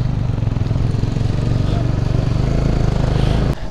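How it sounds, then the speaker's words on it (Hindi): A motorcycle engine idles nearby with a steady low rumble while people talk over it outdoors on a cold, cloudy hill road. "बस अनुज भाई की बाइक स्टार्ट है बाकी सबकी सबकी बंद है"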